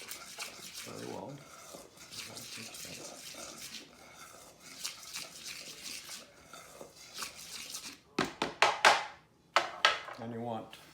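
Fry bread dough with salt mixed by hand in a bowl, a steady rustle and soft clatter that gives way to louder, irregular knocks and scrapes near the end, with faint voices in the background.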